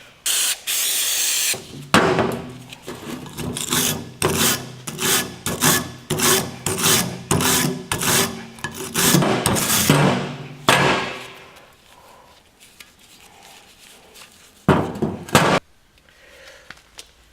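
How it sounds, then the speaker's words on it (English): A brush scrubs a car's front brake caliper bracket with brake cleaner, giving rhythmic, close, harsh rasping strokes, with short sprays of cleaner hissing at the start and again near the end. "Be sure to clean it up as good as you can. Just with some brake cleaner and a brush."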